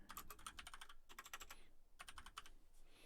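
Quiet, rapid keystrokes clatter on a computer keyboard in three dense bursts separated by short pauses, with no voices.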